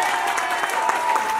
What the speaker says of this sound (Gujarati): પ્લીઝ જોરદાર તાળીઓ થઈ જાય.